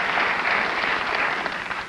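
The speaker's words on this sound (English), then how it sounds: "They felt I needed the applause" A television studio audience applauds, a dense, loud wash of clapping that holds steady throughout and tapers slightly at the end.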